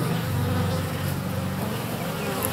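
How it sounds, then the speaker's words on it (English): Honeybees from a freshly caught swarm buzz inside a nuc box, a dense continuous drone heard close up and steady throughout, with no talking. "You can see some of the bees on top."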